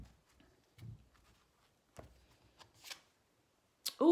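Tarot cards are shuffled and drawn in soft, scattered rustling bursts with quiet gaps between them, ending as a voice starts to speak.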